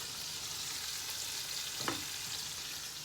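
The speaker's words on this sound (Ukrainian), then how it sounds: "Перемішую і висипаю в пательню, хай вона досмажується" Food fries in oil in a frying pan with a steady, even sizzle, broken by a single scrape of a spoon stirring it near the two-second mark.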